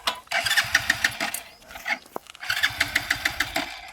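A motorcycle engine cranks in two rapid, pulsing bursts, sputtering as it tries to catch, with a short pause between attempts.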